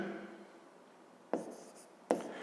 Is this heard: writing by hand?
yes